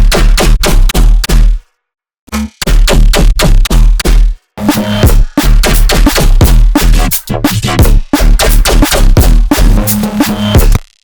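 Loud playback of a neurofunk drum and bass drop with heavy processed bass, hitting in dense, punchy bursts separated by two brief silent gaps, with no talking.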